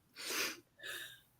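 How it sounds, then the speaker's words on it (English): A single indoor sneeze in two bursts, a sharp breathy intake followed by the explosive release, fairly close and alone with no talk over it. "Excuse me for sneezing."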